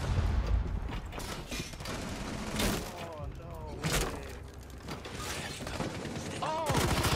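Rainbow Six Siege gunshots, several sharp bursts and single reports amid game noise and shattering, with a player talking over much of it.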